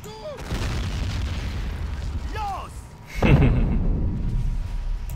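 In the World War II strategy game Men of War Assault Squad, a heavy explosion booms as a target is destroyed, a loud low blast rising over ongoing battle noise and a speaking voice.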